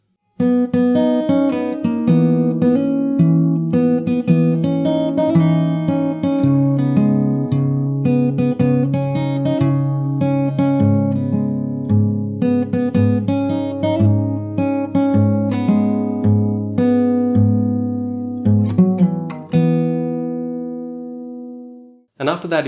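A guitar plays from the start of the chorus, with a steady run of plucked notes over ringing low strings for about twenty seconds, close and clear, ending on a fading chord.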